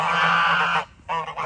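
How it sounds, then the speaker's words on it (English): Geese on a farm honk loudly and close, one long harsh honk followed by a shorter burst of honks. "Those dang geese."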